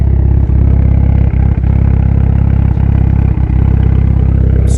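Mitsubishi Evo 9 MR four-cylinder fitted with GSC S2 cams and a stock turbo runs at a steady, loud idle, a dense continuous drone with occasional faint clicks and clatter, and nobody speaks.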